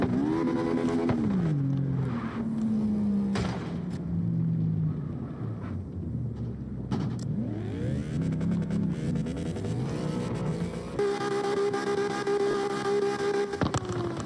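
A red Toyota Supra engine revs and shifts in a racing video game, with rising and falling harmonic whines through gear changes and a steady higher-pitched drone toward the end, loud and continuous with no talking.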